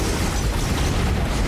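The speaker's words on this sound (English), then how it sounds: "That's a lot of ice explosions." A dense, roaring burst of ice explosions in Risk of Rain 2 fills the whole span, loud and continuous like overlapping blasts.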